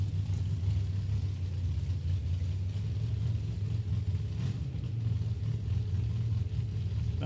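Engine of a dragster at a drag strip, a low, steady rumbling idle heard from a distance with no talking.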